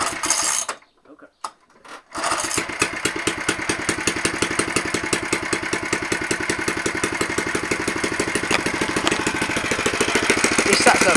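A Suffolk racing engine fires up on a cold first start after a brief cranking pause, then settles into a loud, fast, even chugging beat up close, continuing steadily without talk.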